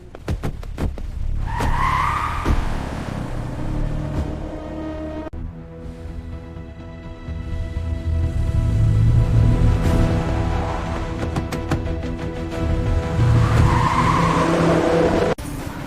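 Car tires skid and squeal hard as the vehicle roars off at speed, with a loud, sustained engine and sharp screeches at the start and again near the end, close by and with no talk.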